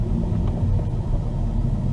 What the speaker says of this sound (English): Going about 60 miles an hour right now on 4th gear